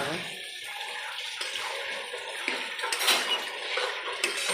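Grated coconut and sugarcane jaggery are stirred in a pan, giving a continuous close scraping and sizzling hiss with light clinks of the utensil, under faint talk.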